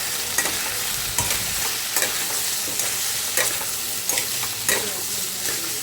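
Potatoes with salt and turmeric sautéing in a pan, a steady dense sizzle with repeated scraping stir strokes.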